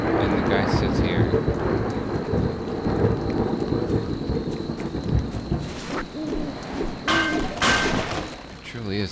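Loud thunder rumbles over steady heavy rain in Deus Ex: Revision, making a dense, continuous storm roar with some sharper cracks toward the end.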